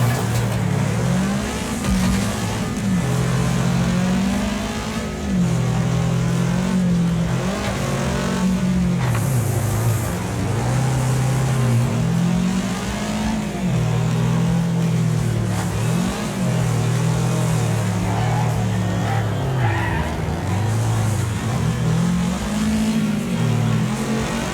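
Dune buggy engine in the Wreckfest racing game, loud and continuous, rising and falling in repeated revving cycles as it accelerates and shifts, with crunches and rumbles from the track underneath.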